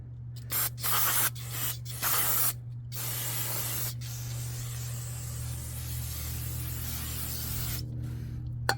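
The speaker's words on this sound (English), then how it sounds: "Now let's spray this whole area." Aerosol spray on the brake area of an Acura TL during a pad and rotor job: several short close bursts of hissing spray, then one long sustained spray lasting several seconds.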